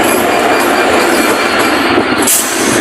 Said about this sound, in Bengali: এটা আপনার চিলাহাটি এক্সপ্রেস, বিশাল বড় ট্রেন এটা